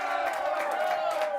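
Crowd cheering during a vote for a sports segment winner, a steady wash of voices and whoops held at even loudness for the whole stretch, sounding somewhat distant.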